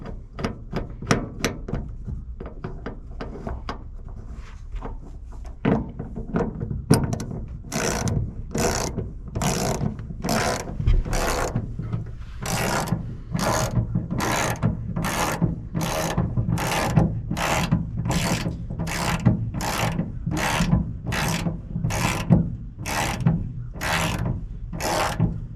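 Bolts are threaded in and ratcheted tight on a 1978 Dodge W150 Stepside pickup, first with a few scattered clicks, then a long run of steady, evenly spaced ratchet strokes close to the microphone.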